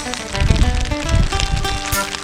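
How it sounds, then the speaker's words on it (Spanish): Steady rain patters and hisses on a surface in a cemetery, with scattered heavier taps, continuous and fairly close. "en plena lluvia."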